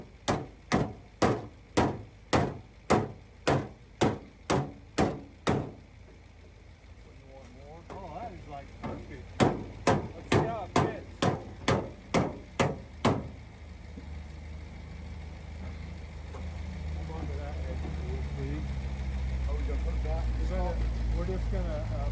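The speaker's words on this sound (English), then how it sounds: "So Billy Douglas got a couple of 3-pound sledges and used one as a hammer, one as a dolly, and flattened out that rest of that dent." Two 3-pound sledgehammers, one used as a hammer and one as a dolly, flattening a dent in a rolled-over Jeep's metal body: sharp, evenly spaced metallic strikes in two quick runs, with someone talking and an engine idling underneath.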